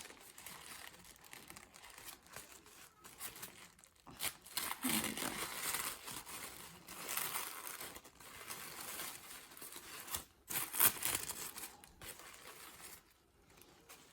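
Plant packaging from a house plant order is crinkled and torn open in a string of close, fairly quiet rustling and ripping bursts with brief pauses between them.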